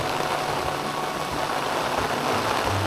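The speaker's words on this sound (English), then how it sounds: "And it's raining again." Steady rain hisses loudly and evenly throughout on a mountain hike on Hakusan, Japan, a dense wash of falling drops with a faint low rumble underneath and no voices.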